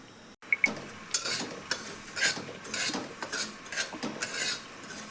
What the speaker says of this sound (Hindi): अब मैंने यहाँ बड़ी कढ़ाई रखी है ताकि हमें धनिया जो सेकना है वो एक साथ में